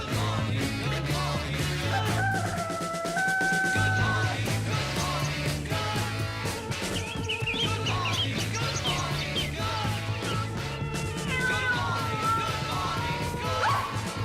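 A dog barks and yips within a dense 1960s rock track, the animal sounds mixed under loud guitars, drums and vocals throughout.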